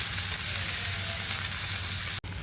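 Spring onions sauté in oil with mustard seeds, cumin, asafoetida and garlic, giving a dense, steady frying hiss with a faint low hum beneath and a single sharp tick near the end.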